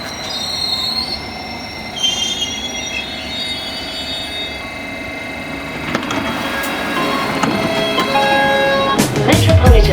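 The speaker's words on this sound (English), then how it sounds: "Any moment now, our train to Watford should pull in." A Metropolitan line train to Watford pulls into a semi-rural station. Its wheels screech and squeal on the rails, growing louder and harsher as it nears and brakes, with rumbling and clattering at the end.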